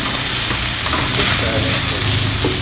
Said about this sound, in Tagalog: Brown natin ng kaunti yung kape, guys.